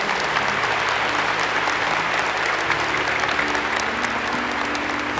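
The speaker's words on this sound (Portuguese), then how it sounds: "Vamos aplaudir a palavra." A church congregation breaks into steady, dense applause that lasts the whole stretch, with a soft sustained organ or keyboard tone underneath.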